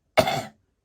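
A voice imitates a dying man's cough during a tabletop war game session, one short rasping cough burst, close and loud, fading quickly into silence.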